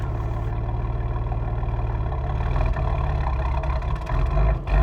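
A Nissan 300ZX Anniversary Edition on its first drive, its engine droning steadily up close with a deep, even rumble that swells slightly toward the end, no voices.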